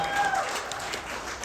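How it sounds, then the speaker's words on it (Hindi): Audience applause rings out at a birthday surprise celebration in India, a brief burst of clapping from a crowd, fairly loud and steady throughout. "एवरीवन जोरदार क्लैपिंग।"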